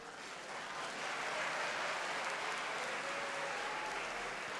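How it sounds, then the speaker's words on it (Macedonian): Audience applause at the Zlatna Bubamara popularity awards show, a steady wash of clapping from a large crowd that swells slightly and then holds, with no voices over it. "Слабо со аплаузов некако"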